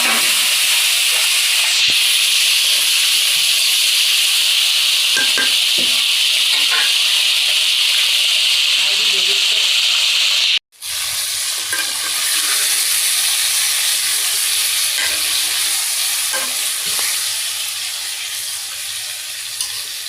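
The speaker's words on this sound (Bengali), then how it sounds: "রুটি বানানোর জন্য আটার আমি ফ্রাই করে নিলাম" Flour dry-frying in a pan for roti gives a steady close sizzling hiss that runs continuously, with a brief dropout midway and faint stirring scrapes underneath.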